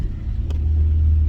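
Road traffic heard from inside a moving Astro van: a loud, steady low engine and tyre rumble that stays constant, with a couple of faint brief clicks over it.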